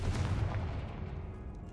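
Confringo fire spell blast from the video game Hogwarts Legacy, a loud booming explosive burst with a heavy low rumble that fades out over under two seconds, with no talking.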